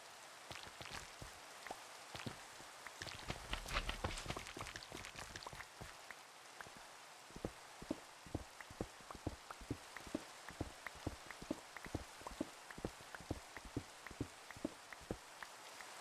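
Rain falling in the video game Minecraft, a soft, steady wash with many scattered drip and patter ticks, quiet and continuous with no voices.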